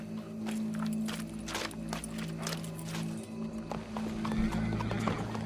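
Horse hooves clip-clop steadily at close range in Red Dead Redemption 2, with a loud whinny from the horse breaking in over a low, steady background hum.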